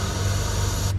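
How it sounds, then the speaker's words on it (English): Ether is sprayed from a can into the open intake of a Clark forklift engine, a loud, close, steady hiss that cuts off abruptly near the end. "We'll go ahead and give her a shot of ether."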